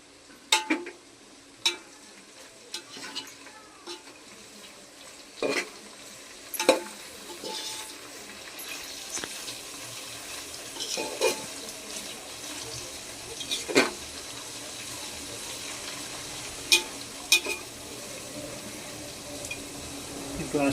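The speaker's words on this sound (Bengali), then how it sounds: "এবার পনির ভাজা হবে।" Small paneer cubes sizzle in a pan while being stirred for a vegetarian mixed fried rice, a steady frying hiss broken by scattered sharp clinks and scrapes of the utensil throughout.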